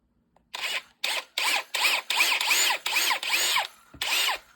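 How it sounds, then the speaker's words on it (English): A power drill drilling out a wooden Brio toy train car whirs in a series of short bursts, about eight close, loud pulses with brief pauses between them, ending in one final burst. "I'm going to be drilling them out just right here"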